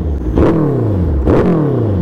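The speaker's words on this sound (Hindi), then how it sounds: "आवाज़ सुनाते हैं बाइक की" Two sharp engine revs from a sport motorcycle, each rising quickly then falling away, loud and close with a steady idle between them.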